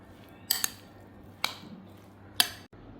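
A spoon clinks against a bowl while raw mango, onion and coriander pickle is mixed, with three sharp, separate metallic knocks over a soft, wet stirring background.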